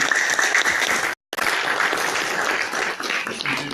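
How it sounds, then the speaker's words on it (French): Loud, dense applause from an audience at a French event, sustained across the clip apart from a brief silent gap near the start. "je crois qu'on peut l'applaudir aussi très fort."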